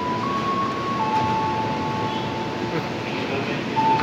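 KRL Commuterline train at flooded Tebet station near Jakarta, a broad rumbling roar of the train entering the platform with thin tonal squeals over it, steady and fairly close.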